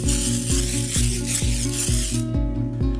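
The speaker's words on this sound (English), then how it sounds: "first thing we do is put on the release, spray it on" A steady hiss of release agent sprayed onto a concrete brick mold runs for a couple of seconds, then cuts off, leaving a faint mechanical hum beneath.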